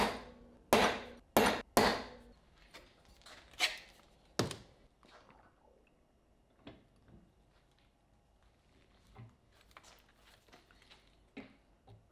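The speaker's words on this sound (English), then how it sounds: "I'm doing the center punch for the drill locations right here." Several sharp, hard taps in quick bursts as a hammer strikes a center punch on metal rebar, followed by softer scattered knocks and handling noises.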